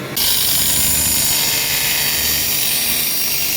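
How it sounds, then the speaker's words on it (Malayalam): A power tool cuts the tip of a steel knife blade, making a loud, harsh, continuous grinding whine that starts suddenly and holds steady to the end. "കുറച്ച് ഭാഗം ഇതുപോലെ കട്ട് ചെയ്ത് കളയും"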